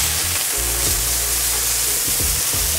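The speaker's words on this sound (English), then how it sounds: "Time to put our burgers on" Thick beef burger patties sizzle in a hot pan, giving a loud, steady, close frying hiss that runs unbroken throughout, with no voices.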